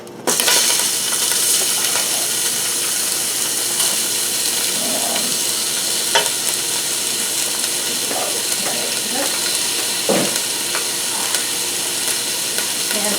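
Pork pieces and ginger fry in hot oil for a Japanese thick pork soup, a loud, steady sizzle and hiss with occasional sharp pops and clinks of stirring.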